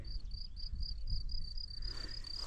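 Crickets chirp steadily in a fast, regular pulse on a May evening in a hillside forest, with a soft low rumble of outdoor ambience underneath.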